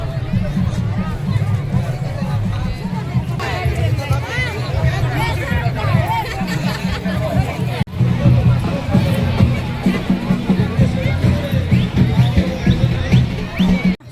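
Dense crowd hubbub at the Toki Parab festival fair in Gunupur, a steady roar of many overlapping voices and chatter throughout, loud and close, with a brief dip near the middle before the babble resumes.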